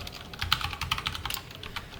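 Fast typing on a computer keyboard, with close, crisp keystrokes clattering in an irregular burst and no talking.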